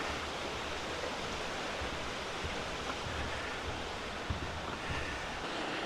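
A creek rushes along a trail near a waterfall, a dense, steady roar of flowing water with no voices.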